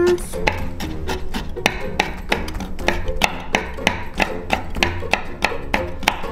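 A knife chops pepper on a cutting board in a steady run of about twenty sharp, close taps at a brisk, even rhythm, with no talk.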